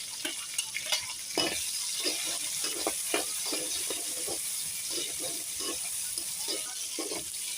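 Green chillies fry in oil with a soft, steady sizzle, punctuated by repeated clinks and scrapes of a spoon stirring in the pan, fairly quiet and close.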